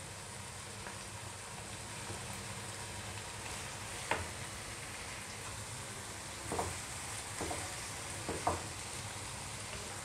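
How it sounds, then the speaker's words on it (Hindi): Ground spices and green chilli paste with ridge gourd sizzle quietly in a hot pan, a soft continuous fry broken by a few scraping stirs. "मिनट हो गए हैं इसे भूनते हुए"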